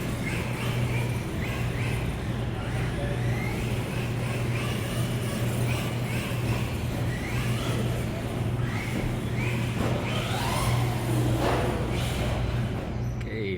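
A cheap $100 Amazon RC truck with a Toyota Tundra body runs around a race track, its motor whining and varying continuously over a steady background hum, with no clear talking.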